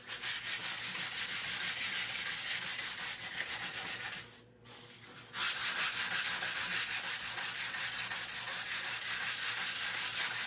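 Sandpaper rubbing along the edges of painted wood, a steady rapid scratching stroke that pauses briefly midway and then resumes, close and fairly quiet with no talking.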